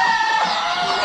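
Desi chickens on a poultry farm cluck in a brief, close, busy burst, overlapping calls from several birds with a bright tonal squawk at the start.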